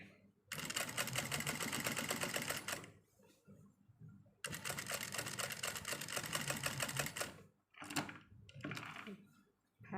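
A sewing machine stitches along a trouser waistband during a repair, running in loud, close bursts of rapid mechanical chatter separated by short pauses and clicks.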